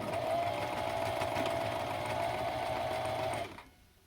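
Close-up whir of a sewing machine back stitching elastic onto a fabric mask, a steady motor hum running for about three and a half seconds before stopping abruptly, with no voices.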